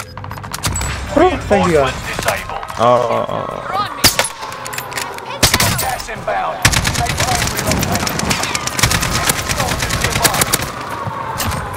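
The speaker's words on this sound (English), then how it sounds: "I'm shooting." Sustained rapid gunfire in a video game shooter match, dense overlapping automatic bursts and single cracks that continue throughout, with a player talking briefly over the shots.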